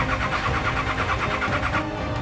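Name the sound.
4WD engine cutting out after kill switch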